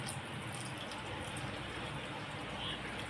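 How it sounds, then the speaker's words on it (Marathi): Water poured into a pan while cooking Konkan-style kulith (horse gram) pithi, a steady broadband splashing pour that runs the whole time at moderate loudness with no talk over it. "ह्याच्यामध्ये आता मी पाणी वतून घेते"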